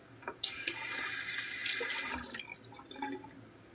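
Water running from a tap, added in small amounts while mixing shaving soap, a steady splashing stream with a brief stop and restart near the end.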